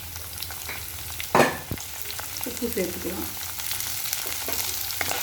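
Garlic, onion and tamarind fry in a pan for chutney with a soft continuous sizzle, one louder scrape or clatter of stirring, and a few faint knocks, with no one talking.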